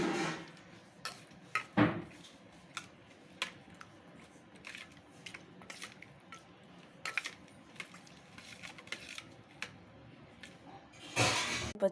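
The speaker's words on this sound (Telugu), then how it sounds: "ఇలా వేప పువ్వు అంతా వేసుకొని తర్వాత బాగా కలపాలి." Neem flowers being stirred into Ugadi pachadi, a festival chutney with raw mango pieces, in a kitchen bowl. Soft, scattered clinks and scrapes of a spoon against the vessel, fairly quiet, with occasional louder knocks and no talk.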